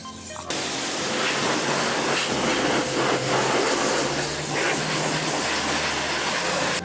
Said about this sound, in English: get the pressure washer on.